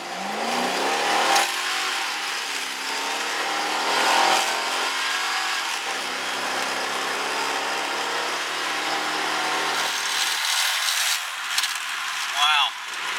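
Mazda RX7 convertible with a swapped Chevy V8 LT1 engine accelerating hard from a standstill to 80, a loud close engine roar climbing through several gear shifts, with talk partly audible over it.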